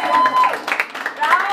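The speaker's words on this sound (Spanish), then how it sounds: "Ese aplauso maravilloso para la de Jesús" Brief burst of applause at a birthday celebration with mariachi music, a small crowd clapping quickly and unevenly at close range.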